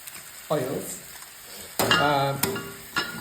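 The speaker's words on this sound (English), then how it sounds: "We're going to saute them with a little bit of olive oil." Vegetables sauté in olive oil in a pan, giving a steady sizzle while a utensil stirs and clinks against the pan, with someone talking over it.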